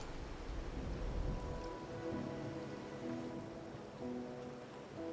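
Steady rain in Wuthering Waves falls throughout, a dense, even hiss of drops on surfaces with a faint tonal ambience beneath, no voices.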